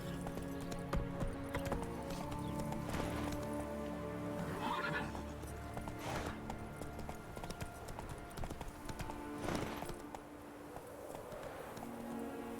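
Roach the horse from The Witcher 3 galloping with steady clip-clop hoofbeats and a whinny, set against a continuous game music and ambience bed.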